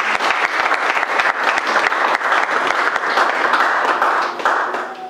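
A church congregation bursts into loud, sustained applause, dense clapping from many hands close by that holds steady for several seconds and eases slightly at the end.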